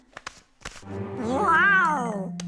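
A house cat gives one long, drawn-out meow with a rising then falling pitch, loud and close, preceded by a few short clicks and knocks.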